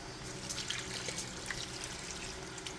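Very hot water running and trickling into a container of shredded toilet paper for tabletop terrain, a steady soft wet splashing with faint drips, fairly quiet and alone.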